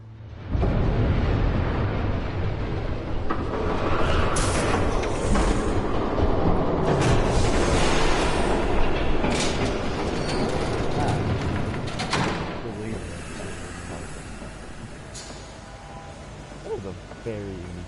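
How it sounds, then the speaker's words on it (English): A train rumbles past in Batman: The Telltale Series, a loud, sustained roar with rattling wagon noise that starts abruptly and fades slightly toward the end, with voices in the game nearby. "There's a train coming."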